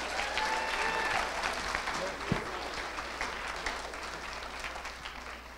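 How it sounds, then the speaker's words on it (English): Audience applause for the winners at an entrepreneur Shark Tank night event, a sustained wash of clapping from a crowd in a room, moderately loud, with a brief sharp thump partway through. "round of applause for the winners"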